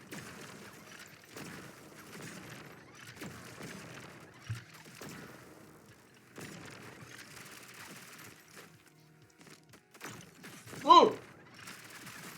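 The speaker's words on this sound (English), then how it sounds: "we can just spam it with sniper." Sniper rifle fire is spammed in the game ODDCORE as a string of quiet, scattered cracks across the span, ending in a louder burst near the end, with talking running underneath.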